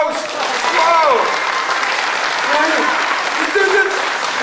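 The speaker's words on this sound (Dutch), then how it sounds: "Geef hem een applaus." Applause from an audience at a school's last-day celebration for a child performing a magic trick, with children's voices and chatter mixed in across the clapping.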